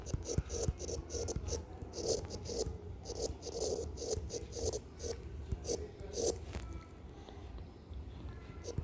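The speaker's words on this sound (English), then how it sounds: "And let's write the floral formula." A pen scratches out a floral formula on paper in short, rhythmic strokes, close and fairly quiet, with soft pauses between marks.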